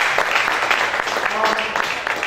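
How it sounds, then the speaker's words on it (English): Audience applause at a fight-promotion press conference for an ABC Rumble event, a brief burst of scattered clapping mixed with voices talking over it. "so round of applause for them guys"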